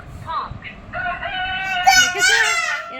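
A short electronic rooster crow from a children's talking book rises after a brief child-like sound, tinny and close, like a recorded toy playing.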